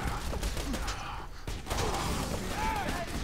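Turret gunfire in Borderlands 2 rattles through dense, busy game audio, a steady stream of mechanical shots mixed with other effects, with a short dip in the middle before the noise picks back up.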